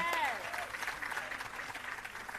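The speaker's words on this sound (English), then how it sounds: "Keep the applause going for Raina." Applause from the audience at a restorative justice facilitator graduation ceremony in Jamaica, fairly faint, steady clapping that continues after a short voiced exclamation at the start.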